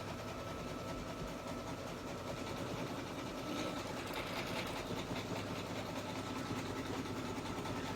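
An in-the-hoop compact mirror project being sewn on an embroidery machine as it runs a zigzag tack-down, giving a steady, continuous mechanical whir with rapid stitching rattle throughout, fairly quiet and with no talk.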